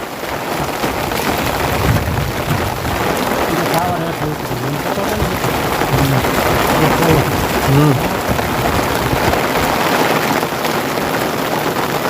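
Heavy rain pours down in a loud, unbroken hiss throughout, with voices talking beneath the downpour as floodwater rises on the road.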